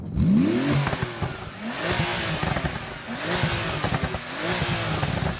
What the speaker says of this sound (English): Hey Nabil, let's hear if your turbocharged engine sounds better than mine.